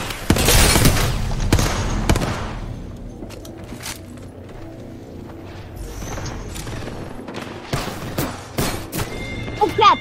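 Sniper rifle gunfire in the video game Apex Legends, with sharp loud shots and booming cracks, mostly early and late, plus mechanical clicks and game effects between them and a little talk.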